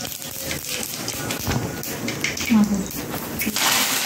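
Cumin seeds crackle in hot oil in a pan already popping with mustard seeds, a dense spattering sizzle with sharp pops, picking up and getting louder toward the end.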